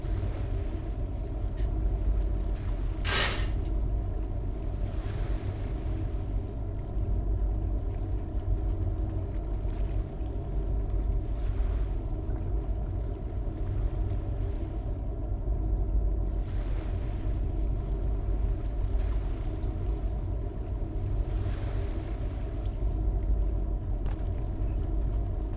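A fishing boat's engine drones low and steady while running in gear in the Deadliest Catch video game, with a constant rumble under wind and wave wash and a sharp splash or hit early on.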